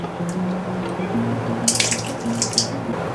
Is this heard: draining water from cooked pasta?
yes